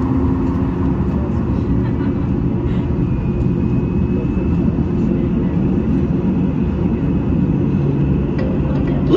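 Steady broadband roar of a Jet2 Boeing 737-800 airliner cabin in flight, a constant loud engine and airflow drone filling the whole clip with no change in level.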